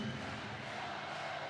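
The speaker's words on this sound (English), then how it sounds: "So Panthers will go and take their well-deserved applause from the fans in attendance" Fans in an ice hockey arena applaud the Nottingham Panthers after a win, a brief, faint wash of crowd clapping and cheering.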